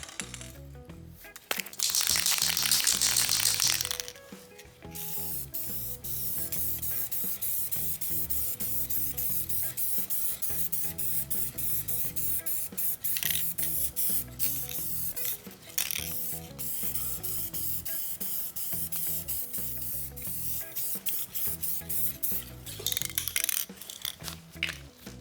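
Chain lube spray hisses in a loud burst onto an engine block being prepped for storage, then shorter sprays, rattling can handling and rubbing follow close by.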